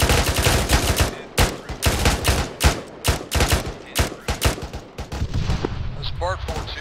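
Rapid bursts of artillery fire from a fire mission launching smoke rounds in the military game ArmA 3, loud repeated booming shots in an irregular volley, fading near the end.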